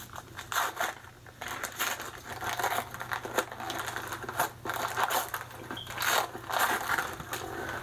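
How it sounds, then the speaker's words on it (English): Christmas-wrapped books being unwrapped, with close, loud crinkling and tearing of gift paper in bursts of crackling rustles with brief pauses between. "Let's unwrap."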